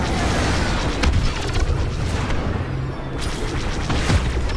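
An enemy ship exploding in Star Wars Battlefront II, loud booming blasts and crackling bursts layered over continuous battle noise, with a second big burst partway through.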